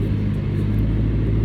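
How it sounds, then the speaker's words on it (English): A Ford Mustang muscle car's engine rumbles loud and close in a steady, deep throaty idle-to-rev with a strong low drone throughout the short moment, no voices. "Right, look at that muscle car."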